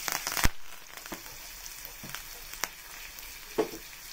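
Curry leaves with green chilli crackle and sizzle in hot oil in a pan, a steady close frying hiss broken by sharp pops and spatters.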